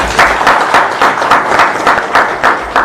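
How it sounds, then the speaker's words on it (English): A crowd at a formal ceremony applauds a professor after his remarks, loud close clapping with a rhythmic, pulsing feel throughout and no talk over it. "Could you please give him another round of applause?"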